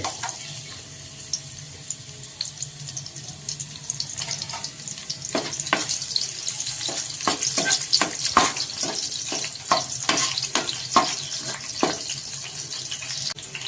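Garlic sizzles steadily in hot oil for a bitter gourd fry, a continuous crackling hiss close by, with intermittent clinks and scrapes of stirring and a faint watery background.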